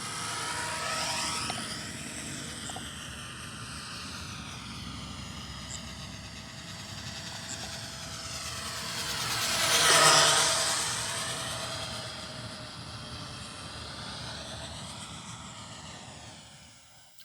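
An E-flite UMX B-17G radio-controlled bomber flying laps at an RC club field, a steady buzzing whine of small electric motors that swells as it passes close overhead and fades as it moves away.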